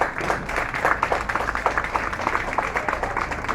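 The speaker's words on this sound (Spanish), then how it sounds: "Recibamos con un fuerte aplauso" A crowd applauds steadily for the First Lady of Panama, Yasmín Colón de Cortizo, during her visit to Cerro Caña, a dense even patter of hand clapping at moderate distance.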